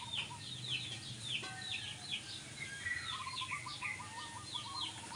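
A newly hatched hawk chick gives repeated thin high-pitched calls and cheeps in quick bursts, fairly close but quiet, over a low background hum, with no talking.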